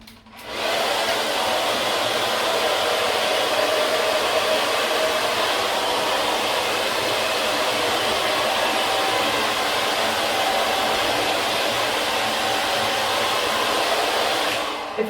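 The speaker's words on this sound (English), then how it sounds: "Now I'm gonna blow dry my hair, and then I'm gonna curl it for you." A hair dryer blow-drying hair roars steadily and loudly close by for nearly the whole span, switching on at the start and cutting off at the end.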